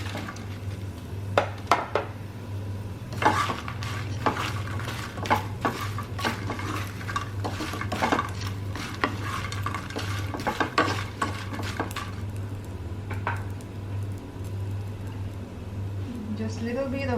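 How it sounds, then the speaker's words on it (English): Egg fritters are tossed in a hot pan, giving a soft sizzle under irregular scraping and clinking from a spatula on metal while a steady burner hum runs beneath and a person talks intermittently. "Add this egg fritters in this pan."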